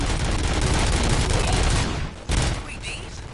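Dense sustained gunfire in the RoboCop video game, a loud continuous fusillade of rapid shots that briefly drops out and then resumes with a sharp burst.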